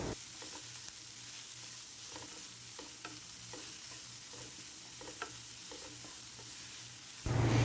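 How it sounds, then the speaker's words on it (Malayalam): Chopped onions fry with prawns for a prawn roast, a low steady sizzle under regular scraping strokes of a spoon stirring the pan, ending in a sudden louder burst of noise. "ഇനി അരിഞ്ഞു വെച്ചിരിക്കുന്ന സവോളയും കൂടെ ചേർത്ത് നല്ലപോലെ മിക്സ് ചെയ്ത് കൊടുക്കാം"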